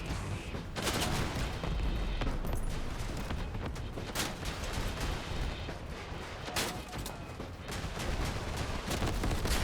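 A Cicada rocket launcher firing salvos of rockets in a video game, dense bursts of launches and blasts in rapid succession, loud and close, with explosions rumbling throughout.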